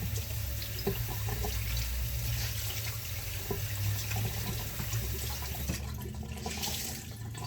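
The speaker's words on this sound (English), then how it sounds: "we wet a dish rag" Tap water runs steadily from a kitchen faucet onto a dish rag, a continuous close splashing hiss that carries on alone.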